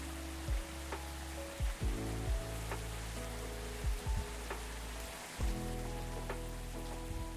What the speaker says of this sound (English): that rain is really loud